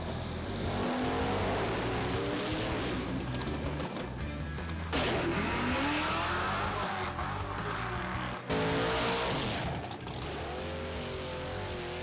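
Race cars accelerating hard down a drag strip, loud engine roar rising and sweeping in pitch, with three successive runs or passes each bursting in abruptly and sustaining close and powerful.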